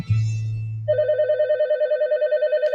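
A telephone rings in a radio advert: a low electronic tone gives way to a steady, rapidly pulsing ring, loud and alone.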